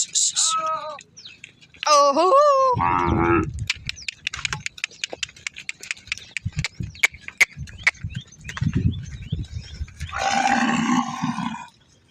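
A cow lets out low, drawn-out moos amid barnyard clatter, while a person talks over the scene.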